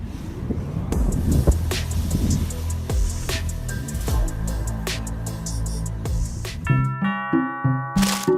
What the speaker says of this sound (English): Some birds get very nervous when they hear a doorbell.